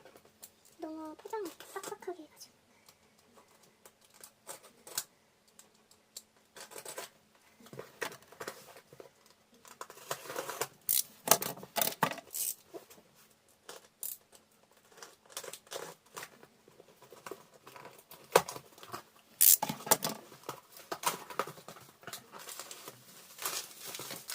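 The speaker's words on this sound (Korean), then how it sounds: "일단 뜯어볼게요" Someone opens a delivered parcel of BTS merchandise, with crinkly plastic and paper wrapping tearing and rustling in quiet, intermittent bursts across the clip, punctuated by a few sharper rips.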